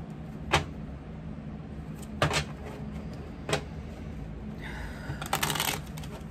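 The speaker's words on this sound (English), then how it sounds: "As I say my prayers, I do shuffle through each deck individually." Tarot card decks shuffled by hand, several quick riffling bursts spaced a few seconds apart, close and crisp against a faint hum of background music.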